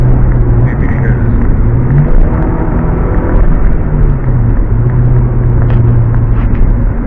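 A stock Acura Integra idles with a deep, steady engine and exhaust rumble, heard close and loud for about seven seconds with a droning low hum and a little mechanical shake, no talk over it.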